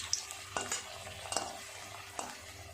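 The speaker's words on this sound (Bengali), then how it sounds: "এইরকম লাল লাল করে সুন্দর করে ভেজে নেব।" Dhoka lentil cakes fry in hot oil with a steady soft sizzle, broken by a few sharp clinks and scrapes of a utensil stirring and turning them in the pan.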